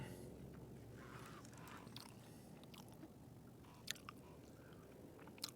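Someone chews a sandwich up close while fishing, soft wet bites and crunches with a few sharper clicks, faint and quiet against a low steady background hiss.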